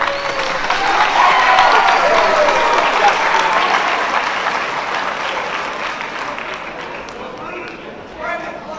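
A school awards ceremony audience claps for honorees, a loud, dense wave of applause with some cheering that gradually tapers off, and faint voices appear as it dies down.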